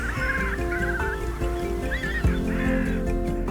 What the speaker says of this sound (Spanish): el sonido más alto que se puede escuchar es el graznido de un pato